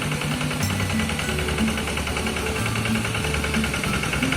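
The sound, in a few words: tractor engine while plowing a wet rice field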